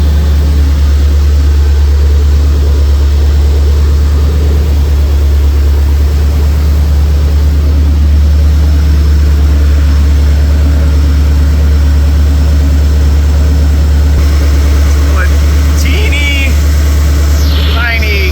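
A brand-new supercharged SVT Cobra engine with new headers, swapped into a Mercury Marauder and running a little smoky, rumbles at a loud, steady idle throughout. The deep drone stays close and constant, with faint talk near the end.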